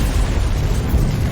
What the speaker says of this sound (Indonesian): Nova lalu meledakkan bom yang berada di tempat tersebut.